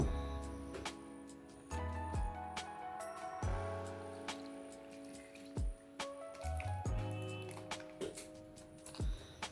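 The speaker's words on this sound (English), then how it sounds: "We're only going to add a little water." Water trickles and drips into a clay pot full to the brim with washed mushrooms being readied for a lemongrass and scent-leaf pepper soup, with soft splashes and occasional louder drops.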